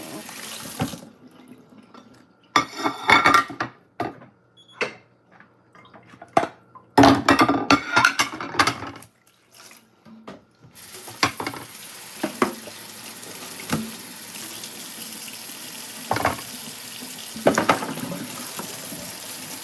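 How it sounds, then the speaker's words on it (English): Plates are washed in a kitchen sink under a running tap, with bursts of splashing water between quiet pauses, then a steadier flow and occasional soft clinks of dishes, all up close. "Trying to wash out some plates here."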